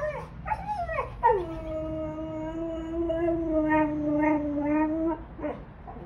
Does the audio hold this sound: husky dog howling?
yes